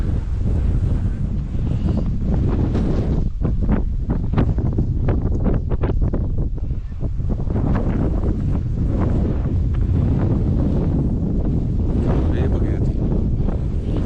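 Strong wind roars across the high Himalayan meadow at Tapovan near Gaumukh, Uttarakhand, buffeting the microphone in a loud, continuous rush with gusty swells throughout.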